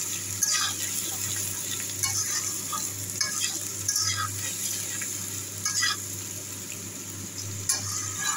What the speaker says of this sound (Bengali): ভালো করে লাল লাল করে একটু ভেজে নেব।